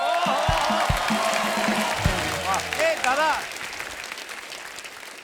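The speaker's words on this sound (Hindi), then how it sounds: "जोरदार तालियां हो जाए मेरे भाई के।" A studio audience at a comedy show applauds loudly, with scattered cheers and whoops, as a man calls out over the clapping; the applause fades toward the end.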